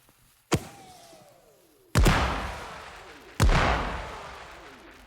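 Three big fireworks explosions in the game Fireworks Mania, each a sharp, loud boom followed by a long crackling, fading rumble, spaced about a second and a half apart with no talking.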